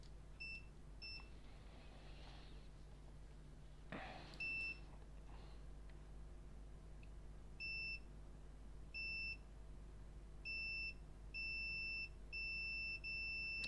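Short, faint, high-pitched electronic beeps come from a MacBook Air logic board, at first in scattered pairs, then repeating in quicker groups near the end against a low steady hum, with a brief rustle partway through.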